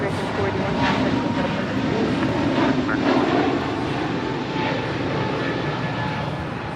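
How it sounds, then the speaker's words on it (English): An American Airlines Airbus A321neo takes off at Los Angeles International Airport with a steady, loud engine roar that holds and slowly fades, and a voice talks over it. "This is American Airlines 481 departing to Philly on the A321neo."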